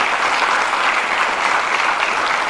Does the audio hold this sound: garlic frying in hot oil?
no